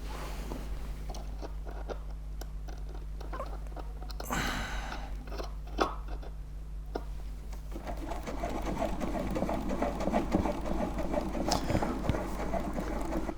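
An old manual, non-electric sewing machine driven by gears runs in a rhythmic mechanical clatter, with faint ticks and a sharper clunk midway, growing busier and denser toward the end under a low hum.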